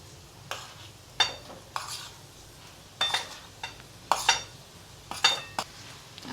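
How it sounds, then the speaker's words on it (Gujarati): Mashed potatoes being stirred into a spiced green chilli filling, a spoon scraping and clinking against the pan in irregular strokes, about ten distinct knocks over a quiet background. "આ બધું સરસ મિક્સ કરી લેવાનું છે."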